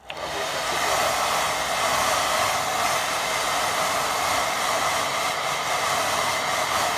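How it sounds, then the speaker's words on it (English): A hair dryer blows with a constant loud whooshing roar from start to finish, close up, with no voices, drying a watercolour painting. "You don't have to use an hairdryer"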